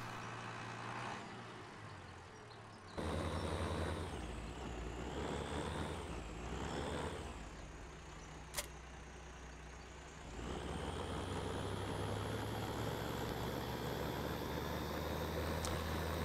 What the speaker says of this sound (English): That's a rather interesting start note on this tractor.